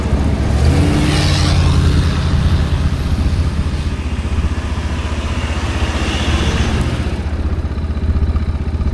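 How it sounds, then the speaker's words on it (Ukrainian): A Linhai 550 ATV churns through sand off-road, its engine droning loudly and close with rising revs and a rough, clattering texture that holds steady throughout. "летить пісок із-під колес, буксують"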